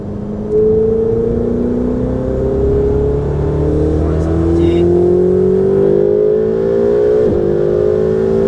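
A car lapping a race track, its engine droning close and steady, pitch climbing smoothly through the gears as it accelerates, with a voice talking over it.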